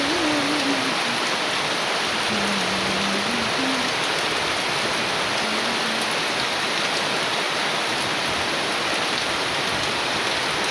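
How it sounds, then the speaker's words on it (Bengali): Heavy rain pours down in a dense, continuous roar that stays loud and even throughout, with no pauses. "খুব বৃষ্টি হচ্ছে, খুব বৃষ্টি হচ্ছে"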